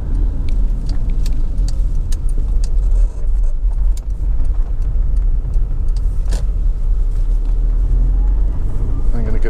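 A Honda CR-V 2.2 i-CDTi diesel drives and swings around a turn, its low steady engine and road rumble close and continuous, with someone talking over it.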